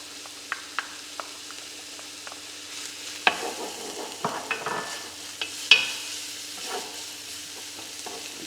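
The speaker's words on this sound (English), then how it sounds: "So we'll let that sizzle away there for a couple of minutes." Bacon and garlic fry in a pan for spaghetti carbonara, giving a steady soft sizzle. Sharp clicks and scrapes from stirring utensils break in now and then, close and without talk.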